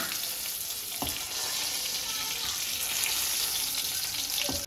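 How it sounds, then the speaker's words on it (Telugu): Green chillies and gongura leaves frying in hot oil for gongura chutney give a steady, close sizzle throughout, with a couple of soft clinks from stirring. "జస్ట్ ఒక వన్ మినిట్ ఆయిల్లో వేయించుకున్నాక తీసేసుకోవాలి"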